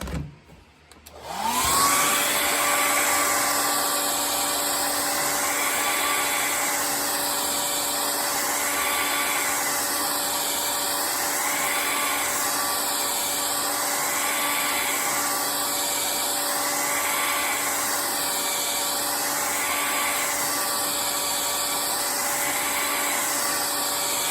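Heat gun blowing steadily on a warped Lasko D-blade fan blade, a loud, continuous whirring roar that starts abruptly and holds a constant pitch throughout, with no talking.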